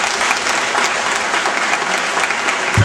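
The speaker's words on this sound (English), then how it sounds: "he deserves a round of applause" School audience of parents and students applauding a teacher at a transition-year event, a dense, steady round of clapping throughout.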